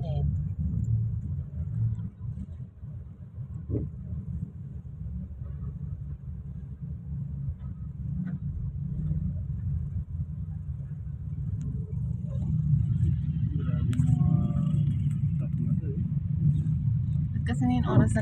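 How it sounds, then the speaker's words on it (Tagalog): Heavy bumper-to-bumper road traffic with large trucks, a steady low engine rumble filling the scene throughout and growing somewhat louder toward the end, with people talking over it. "Heavy traffic."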